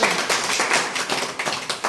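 A small group at a meeting claps together in a quick, steady burst of applause, close by and with no talking over it.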